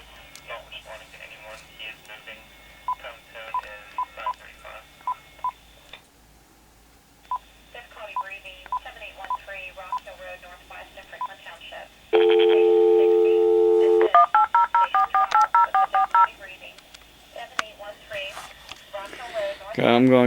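Touch-tone telephone dialing beeps, a steady sequence of short keypad tones, play clearly over a phone line, followed by a louder sustained tone burst and an automated recorded voice answering a call.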